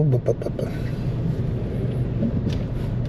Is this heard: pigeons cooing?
no